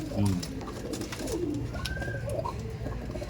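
Pet pigeons kept with their young coo in low, rolling murmurs through the whole stretch, with faint voices and household noise in the background.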